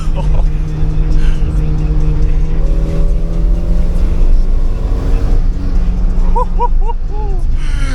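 A Porsche 924 pulls hard in second gear from inside the cabin, the engine drone climbing steadily in pitch under loud road and wind roar, then easing as a brief chirping squeal cuts through near the end.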